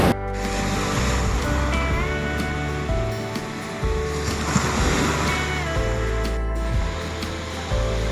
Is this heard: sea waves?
yes